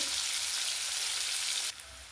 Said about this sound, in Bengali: পেঁয়াজ কুচি দিচ্ছি। পেঁয়াজ কুচিটা ভেজে নেবো।